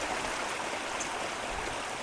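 A small waterfall spills through a landscaped garden water feature, giving a steady, even rush of falling water that runs on without a break, fairly close by and with no voices.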